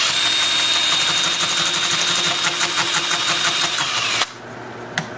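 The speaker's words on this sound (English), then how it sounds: "Lathe spinning at about 350." A wood lathe spins a rhododendron root bowl blank at about 350 rpm, a steady loud motor hum with a faint rhythmic pulse, then it cuts off abruptly near the end.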